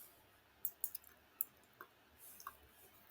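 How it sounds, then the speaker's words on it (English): A computer mouse clicks on a software icon in a medical practice program, a few sharp, faint, quiet clicks spaced irregularly against near silence. "When I click on that icon"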